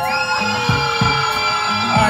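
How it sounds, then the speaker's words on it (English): An audience at a live show screams and cheers in a loud, sustained roar of high shrieks and whoops, close and continuous throughout. "So somebody scream for Dale one time."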